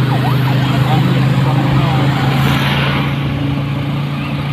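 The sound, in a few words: ambulance siren passing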